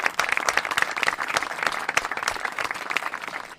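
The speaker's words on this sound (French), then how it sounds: "Je pense qu'on peut les applaudir déjà tous ensemble." An audience applauds at a talk show, with dense, steady clapping filling the whole stretch at a lively, even level.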